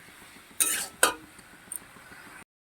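Mustard and poppy seed paste being stirred in a pan for a fish curry, heard as a few brief scraping clinks of a spoon against metal, with quiet pauses between strokes.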